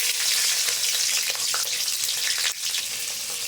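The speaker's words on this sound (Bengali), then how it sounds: "তেলটা গরম হয়ে গিয়েছে, দিয়ে দেবো লঙ্কা, কাঁচা লঙ্কা।" Green chillies hit hot mustard oil in a pan, setting off a loud, continuous crackling sizzle that stays close and even, briefly dipping before roaring on.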